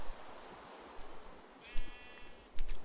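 A sheep in the TerraFirmaCraft video game gives a short bleat over soft ambient game noise, followed by a couple of brief thumps.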